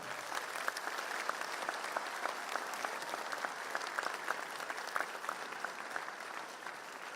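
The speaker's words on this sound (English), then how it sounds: "Please give a huge round of applause for Dr. Velumani Arokiaswamy" A large audience at IIT Bombay Techfest applauds a speaker with steady, even clapping that sounds somewhat distant in a big hall and holds at a constant level without breaks.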